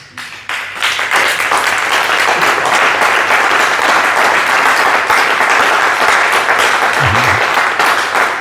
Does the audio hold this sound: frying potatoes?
no